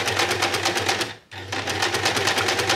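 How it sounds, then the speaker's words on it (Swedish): Sewing machine stitching tough fabric: a steady, loud run of rapid needle clatter stops briefly for the reverse, then resumes at the same even pace. "Så vi syr lite fram och sen så vänder vi, syr bak för att den ska fastna."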